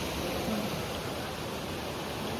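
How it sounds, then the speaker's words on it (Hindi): A waterfall above a flour mill sends down flowing water in a steady, even hiss that is constant and moderately loud, with no voices or other sounds over it. "ये ऊपर वाटरफॉल है, से"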